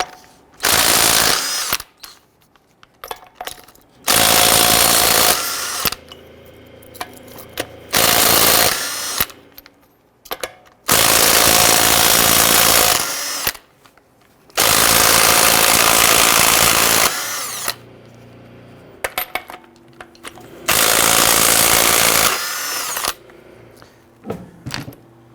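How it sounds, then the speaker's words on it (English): An impact wrench with a 22mm socket breaks loose and spins off lug nuts on a 2007-2014 Cadillac Escalade wheel, several loud, long hammering rattles separated by short pauses, close by. "loosen and remove all of your lug nuts"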